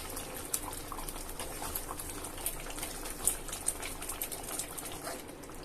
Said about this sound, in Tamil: இது ஒரு 5 நிமிஷம் நல்லா வேகட்டும்.